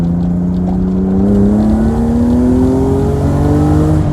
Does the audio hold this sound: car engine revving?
yes